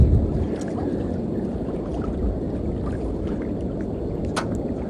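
A sailboat under way from Raiatea toward Taha'a in light wind, with a steady broad wash of water and hull noise running continuously and fairly close, plus small splashes and creaks.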